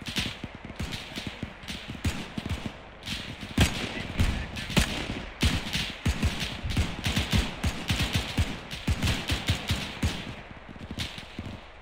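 Incoming gunfire in a multiplayer shooter, dense irregular bursts of rifle and machine-gun shots cracking in rapid volleys throughout, moderately near and steady, with no talk.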